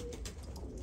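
Pigeons offered for sale, young unflown birds in a loft, give soft low cooing against a steady murmur of background noise, close and continuous.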